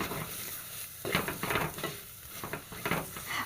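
A spoon stirs fish curry masala around a hot pan, giving repeated scraping strokes over a steady low sizzle, close and moderately loud, with no voices.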